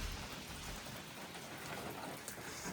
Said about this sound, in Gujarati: જો ગાઈસ કેટલો વરસાદ પડી રહ્યો ને 11:30 થયા